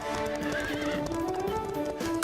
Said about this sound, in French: Où sont mes chevaux de course? Ils sont partis par là.